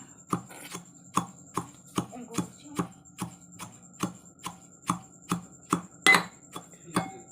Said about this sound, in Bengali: এটা এখন এটার মধ্যে গুঁড়ো করে নিই